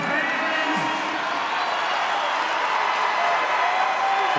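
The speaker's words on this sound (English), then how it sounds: "This crowd trying to get behind Nick Piccininni here." Crowd at a college wrestling match between Minnesota and Oklahoma State cheering steadily, a dense sustained roar with claps and whoops filling the arena, with no pauses and no break.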